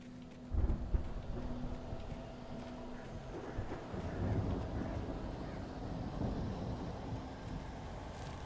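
Thunderstorm with rain in the video game Alan Wake: a low thunder boom early on, then steady rain and rumbling wind that swells again later, fairly quiet throughout.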